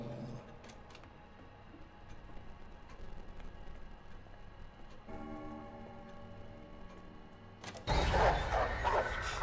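A dog barks in the horror video game Pineview Drive, a few faint sharp yaps early on within a quiet, ticking ambience, then a louder burst near the end.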